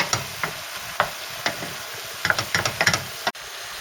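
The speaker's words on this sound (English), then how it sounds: "Cook it on high heat until all the liquid evaporates" A stuffed aubergine and courgette filling mixture cooks on high heat in a pan, with soft sizzling under a series of spoon taps and stirring knocks, close up.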